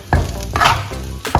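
Egg fried rice seasoned with salt and a sprinkle of white pepper being tossed in a wok, with three loud scraping stir strokes over a soft sizzle and no talking.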